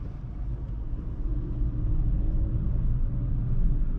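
A 2025 Mercedes-AMG E53 sedan pulls away on electric power, giving a steady low rumble and road noise that builds gently and holds even, with no engine note and no talking.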